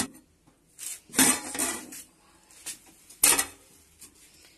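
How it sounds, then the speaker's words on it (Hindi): Cooked rice pulao being served out into a tray in a home kitchen, a series of metal scrapes and clinks as a spoon works against the pan and tray, loud and close, in uneven bursts with quiet pauses between. "देखिए ट्रे में हम चावल निकाल लेते हैं पहले।"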